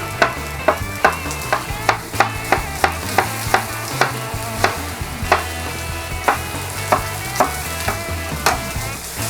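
Mushrooms fry in a big pan with a close, steady sizzle, broken by regular scraping stir strokes roughly twice a second throughout, with no voices.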